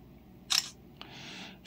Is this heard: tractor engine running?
no